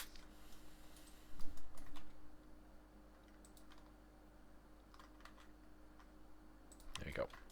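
Keys clack on a computer keyboard in faint, scattered bursts against a quiet room, with a louder cluster of clicks toward the end.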